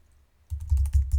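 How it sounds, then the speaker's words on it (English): Fast typing on a computer keyboard during a Linux intrusion-detection search, faint at first, then a burst of close, loud clustered keystrokes in quick runs, no talking. "If I could type"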